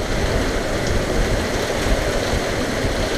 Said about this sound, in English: And a December thunderstorm.